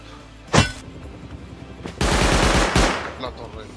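An automated turret in the survival game Rust opening fire, a short loud burst followed after a pause by a longer rapid rattle of shots, then a final crack, close and forceful.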